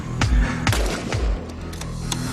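Rifle shots at a sniper competition range, several sharp reports in quick succession followed by deep booming echoes rolling away, loud and outdoors with no talking over them.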